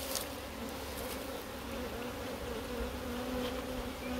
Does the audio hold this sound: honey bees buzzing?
yes